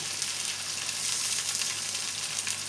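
Cornflour-dusted paneer cubes fry in hot oil for chilli paneer, giving a steady, close, even sizzle with no talking.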